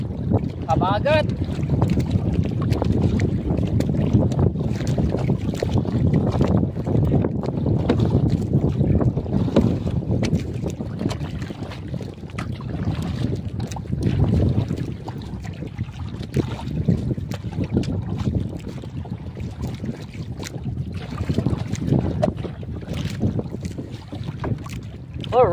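Wind buffets constantly around a small boat out on the water, a rough low roar of gusts with faint water sloshing and occasional voices in the background.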